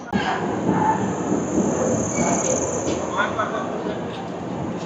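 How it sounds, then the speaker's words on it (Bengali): Rajdhani Express train pulling into Gaya Junction station in Bihar: a steady rumble of rolling cars with a high, faint wheel squeal, continuous and fairly loud, heard from on board. "10টা বেজে 30 আমাদের ট্রেন এসে পৌঁছালো গয়া জংশন স্টেশন"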